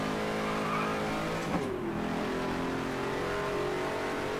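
Race cars roar through a FlatOut Ultimate Carnage race, engines droning steadily and loudly with a brief crash-like burst midway and hints of tire noise throughout.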